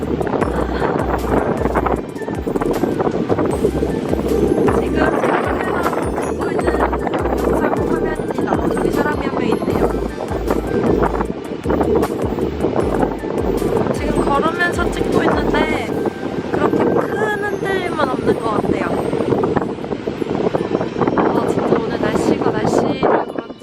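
Strong wind gusts buffet the microphone on a cold, empty beach, producing continuous low rumbling thumps and roaring bursts, with a person speaking over the noise.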